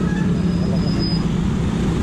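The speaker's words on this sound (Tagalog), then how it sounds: "Kaya back to normal na naman yung traffic." Steady road traffic heard from a moving motorcycle on a commute home, a continuous loud broadband rumble of engines and wind with no distinct events.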